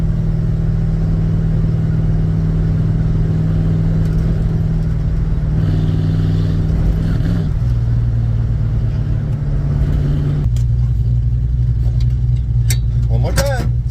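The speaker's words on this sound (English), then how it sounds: "Sounds like I can turn the idle down just a little bit now." Ford F100 pickup engine idling and revving while its carburetor is tuned, a steady close rumble with brief throttle blips and slight pitch changes, sounding alone without talking over it.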